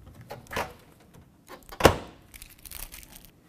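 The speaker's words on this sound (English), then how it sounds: "Let's test the function of our door opening" A newly installed Frigidaire/Electrolux built-in microwave door is opened, giving a soft thump followed by a sharper, louder latch clunk up close, with faint rustling of packing material afterward.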